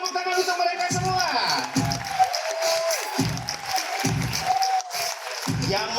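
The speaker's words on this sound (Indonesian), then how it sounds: "Kita beri tepuk tangan untuk mereka semua." An audience applauds the production team at a theatre performance, sustained clapping and crowd noise under a presenter's amplified voice.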